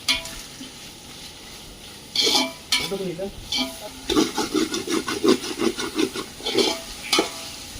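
Masala for a village-style mutton biryani is stirred with rock salt in a pan over a wood fire, giving scraping stir strokes and a soft sizzle that grow busier and more rhythmic in the second half. Brief low voices are heard now and then.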